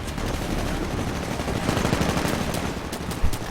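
Rapid Smart Pistol fire in the video game Titanfall, a dense stream of shots over busy game noise, loud and sustained with no talk.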